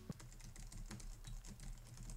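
Typing on a Logitech MX Keys non-mechanical keyboard: a steady run of soft, dull key taps at close range, quiet and evenly paced, with no talking.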